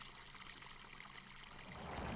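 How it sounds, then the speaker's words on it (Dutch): Water poured into a container in Farming Simulator 22 while preparing for calves, heard as a faint, steady trickling stream for about two seconds with no speech. "als we er water in pleuren op deze manier, kijk, er zit water in"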